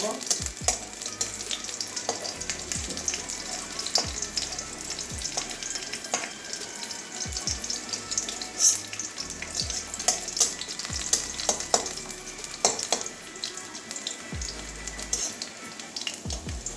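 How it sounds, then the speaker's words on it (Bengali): Garlic and green chilies fry in hot oil in a pan with a steady, crackling sizzle, while a spatula scrapes and taps against the pan at intervals. "রসুন আর কাঁচা গন্ধটা যাওয়া পর্যন্ত ভেজে নেব"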